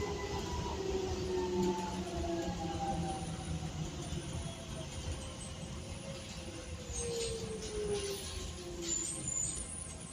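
Docklands Light Railway train running between Canary Wharf and London City Airport, a steady interior rumble with rising and falling motor whine and faint high squeals from the rails, heard from inside the carriage.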